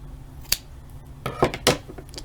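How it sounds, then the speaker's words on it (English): Scissors cut the yarn on a crocheted stingray piece: one sharp snip, then a few quick, close crunchy cuts in quiet surroundings. "cut the yarn"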